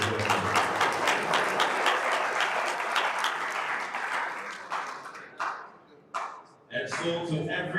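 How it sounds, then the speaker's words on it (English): An audience at a Pacific-area sports tournament in Accra, Ghana, gives a loud, sustained round of applause that thins toward the end, followed by a few scattered claps and a brief voice. "Shall we do one more big round of applause, please?"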